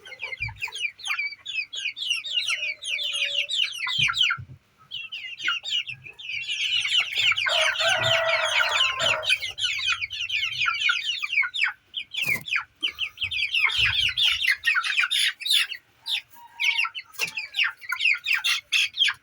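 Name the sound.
chickens clucking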